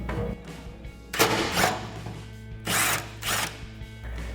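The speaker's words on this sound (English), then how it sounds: "So we'll grab a 10mm socket to remove that." A socket wrench works a 10mm bolt off the frame rail of a 2015-2020 Ford F-150 during an exhaust install, giving a few loud separate ratcheting bursts over a low background hum.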